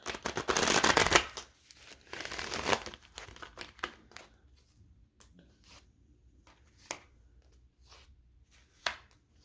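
Playing cards being shuffled during an intuitive tarot-style reading, two dense riffling bursts up close followed by scattered soft card taps and snaps, with no talking.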